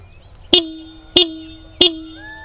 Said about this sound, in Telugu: ఒకసారి హార్న్ చెక్ చేసేద్దాం